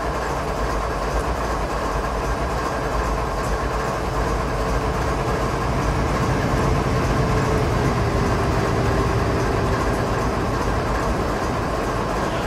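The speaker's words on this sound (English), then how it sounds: "got a grain train heading the other way." Grain freight train passing in Train Simulator 2016 on a Canadian mountain line, a continuous loud rumble and rattle of wagons rolling by close.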